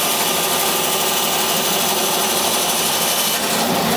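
Lathe turning acrylic for a night light, a steady broadband cutting hiss with a faint motor hum underneath, continuous and close with no voice.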